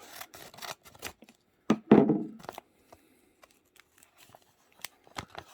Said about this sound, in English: Oh boy, I have to cut the other side too.